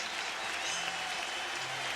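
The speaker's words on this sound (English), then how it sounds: "A big round of applause for the Red Sox ace." Stadium crowd applauding Red Sox pitcher Pedro Martinez as he departs after 8 2/3 innings against the Rangers, a steady dense wash of clapping and cheering from a large baseball crowd, continuous and fairly distant.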